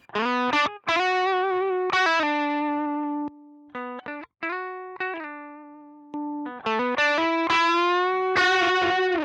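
Electric guitar played through a Soul Food overdrive pedal on a cheap pedalboard, clear distorted single notes and short phrases with sustained tones and abrupt stops, close and alone.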